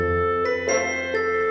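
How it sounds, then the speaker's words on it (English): A doorbell rings with a few bright chiming tones, clear and close, sustained ringing notes struck in sequence. "the doorbell rang"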